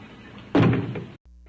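A sharp, heavy thud against a closet door in an old horror film, like one hard knock or bump from inside, followed by a dull rumble, then a brief cutoff and a faint low hum.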